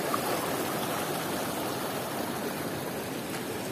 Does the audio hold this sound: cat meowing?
no